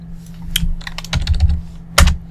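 Close, irregular keystrokes on a computer keyboard, a run of crisp clicks with brief pauses between, over a low steady electrical hum and no talking.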